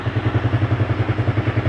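A motorcycle engine idles under troubleshooting, thumping in a steady, even rhythm of close, loud pulses with a light mechanical clatter and no voices.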